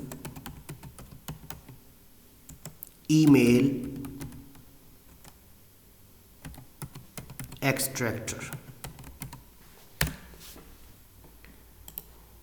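Typing on a computer keyboard, rapid light key taps scattered across the stretch with a few louder clicks, heard close and mostly under someone speaking.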